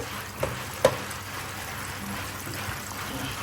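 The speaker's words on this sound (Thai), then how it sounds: "ทอดปลาแซ่บ" Fish frying in hot oil, a steady crackling sizzle with a couple of small pops early on.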